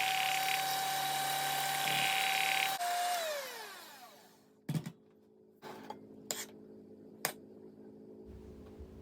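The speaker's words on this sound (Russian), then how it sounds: "добавляем пол пачки масла, сливочного масла комнатной температуры и взбиваем миксером" Electric hand mixer whipping room-temperature butter into cooled custard cream, a steady motor whine that drops in pitch as it slows and stops, then a few separate knocks and clatters nearby.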